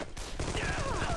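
Turret gunfire in the video game Armed and Dangerous, a dense run of rapid shots in close succession that fills the whole moment, with a rising whine layered over the bursts.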